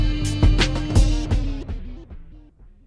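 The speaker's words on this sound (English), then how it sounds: "set the modulation here, and just bring that out a little more to hear the modulation more, and that'll sound like this." Analog delay in Studio One with modulation raised: a dense musical phrase whose repeats wobble in pitch and trail off over about three seconds, fading quieter toward the end.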